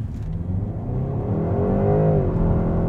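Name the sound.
BMW 128ti accelerating hard from a brake-boost launch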